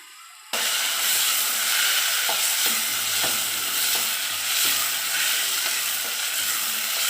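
Saag greens tossed into hot tarka, giving a loud, steady sizzle for about seven seconds with faint stirring scrapes and clicks underneath; no voices.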